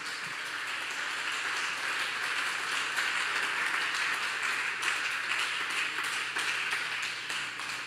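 A church congregation applauds loudly for a sustained stretch, a dense, even wash of clapping with no break and no voices over it.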